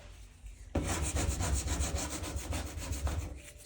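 A plastic scraper rubs soap scum off a porcelain bathtub in a steady run of rough, rasping strokes, close and fairly loud, beginning abruptly after a quiet moment and continuing without talk.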